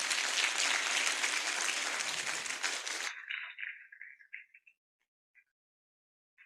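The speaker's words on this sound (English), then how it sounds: "request our audience to give a round of applause to the Beyond" Summit audience applause for a community initiative, dense steady clapping for about three seconds that quickly thins out to a few scattered claps and then silence.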